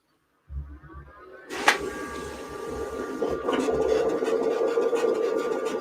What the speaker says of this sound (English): I'm just going to go ahead and send the cut job.